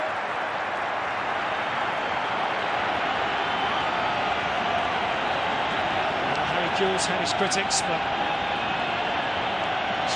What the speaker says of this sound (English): this crowd in Sydney is on their feet, applauding the Socceroos' efforts.